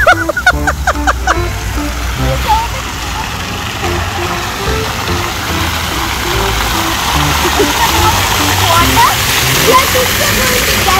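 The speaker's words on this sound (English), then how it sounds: "Tell me, waterfall. What is it? Fountain. Water fountain." Water fountain splashing outdoors, a steady broad rushing spray with passing engine noise, and people talking briefly near the start.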